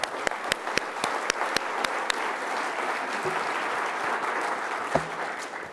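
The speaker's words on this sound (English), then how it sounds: "Can everyone give them a big round of applause?" Audience at a lunch panel on workforce strategies, energy efficiency and green jobs gives a steady round of applause, a few sharp near claps at the start over a broad, even wash of clapping that continues throughout.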